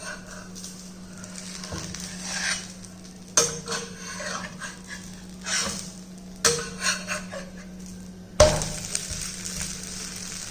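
Wheat rava dosa flipped on a hot pan: a continuous low sizzle broken by several sharp spatula scrapes and metallic clacks against the pan, close and fairly loud, with no voices.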